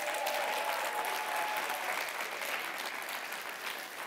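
Dense, steady applause from a studio audience on a French-language talk show, filling the full four seconds at an even, fairly loud level with no voices over it.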